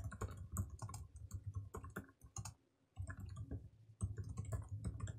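Notes are typed quickly on a computer keyboard, a faint, close run of rapid clicks with one brief pause midway and no voices.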